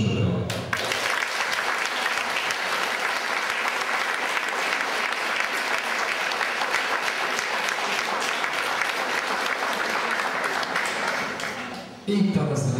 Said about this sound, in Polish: Proszę o duże brawo